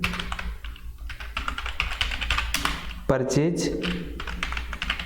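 Typing on a computer keyboard while entering a purchase voucher in accounting software, a rapid, continuous run of close key clicks under a man's spoken instructions.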